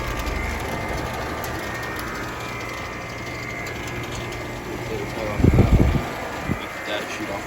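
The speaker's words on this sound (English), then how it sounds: "Very strange sounding compressor." A York Stealth two-stage air conditioner compressor from a twin 2000 pair, rated at two tons, hums and rattles steadily outdoors with a strange mechanical tone, and a louder burst of clatter around the middle of the running sound.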